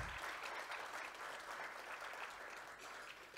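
Sustained audience applause for a speaker at a mid-year budget speech event, an even, dense roar of many hands clapping at once, fairly distant and steady throughout.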